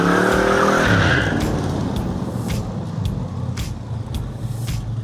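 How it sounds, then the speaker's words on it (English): A car does a burnout in a driveway, its engine roaring and tires squealing loudly at first, then settling into a rough rumbling engine sound with scattered sharp bursts. "He can't leave the driveway without doing a burnout."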